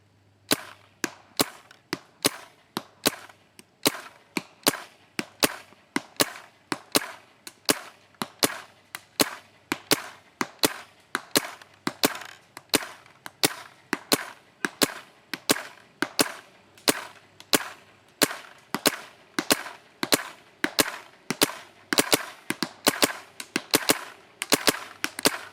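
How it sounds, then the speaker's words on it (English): TM15 airsoft gun with fresh paint firing during an accuracy test: a long run of sharp single shots at a steady, even pace, close and clear, with no talking. "we're going to shoot the TM15 here with new paint"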